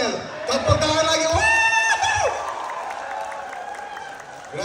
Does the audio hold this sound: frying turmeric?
no